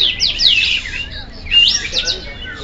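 Songbirds at a bird-singing contest in Rawa Singkil chirp and trill loudly in rapid, overlapping bursts, close by and continuous, with a soft background murmur.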